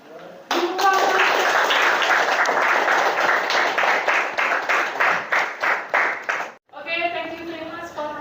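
Classroom applause after a student group finishes its presentation, a burst of many hands clapping that starts suddenly, then thins into scattered separate claps and stops, followed by a voice speaking.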